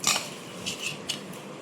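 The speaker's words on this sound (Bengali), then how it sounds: "আমি কড়াই বসিয়ে দিচ্ছি" A metal wok (kadai) is set down on a stove in a home kitchen, with a sharp clank of metal at the start and then a few lighter clinks and taps.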